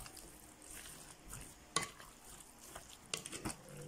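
Ground pork being mixed with cold water in a bowl for homemade luncheon meat, soft wet stirring with a few sharp clinks of a utensil, faint and close with no talk.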